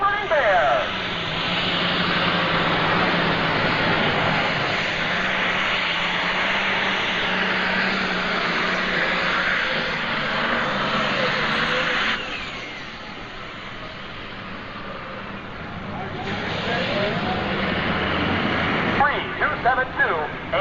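A John Deere pulling tractor with a 466 stock block roars through its twin stacks at a 1995 NTPA pull in Fort Recovery, a loud sustained engine drone that dips midway and then swells again, with an announcer talking over it.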